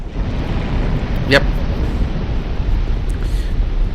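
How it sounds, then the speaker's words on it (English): A Smelter Demon explosion attack in Dark Souls II bursts out as a sharp whooshing blast over steady roaring game noise, with a fainter second burst later. "explosion seems to do quite some damage, right?"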